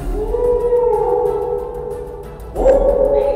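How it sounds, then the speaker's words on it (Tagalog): A loud, drawn-out howl rises and holds in a wavering tone, then returns for a second long cry after a short dip, set against a low background rumble. "isang malakas na alulong na naman ang narinig ng mga yun"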